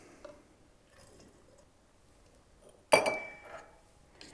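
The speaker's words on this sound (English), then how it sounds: "Now I'm going to pour these liquids in here" Liquids poured into a smooth glass boiling flask for alcohol distillation in a reflux still: a sudden bright clink of glass followed by a brief splashing, trickling pour, after near-silence.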